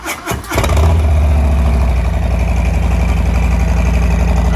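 A 2020 Harley-Davidson Low Rider S with a Milwaukee-Eight engine and a Bassani exhaust cranks briefly, catches, and settles into a loud, deep, loping idle close by.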